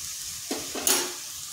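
Amla is stirred with sugar and a pinch each of black salt and white salt in a pan, giving two or three quick close scraping strokes with a light hiss over a quiet background.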